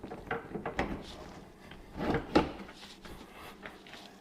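Enclosure door for a Polaris RZR XP 1000 two-seat UTV slid onto its bars, a series of close knocks, clunks and rubbing scrapes with a louder bump midway.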